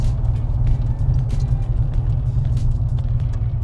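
Steady low engine rumble and road noise from inside a 1981 DeLorean DMC-12 with an automatic transmission, driving through a parking lot, continuous and fairly loud with no talk.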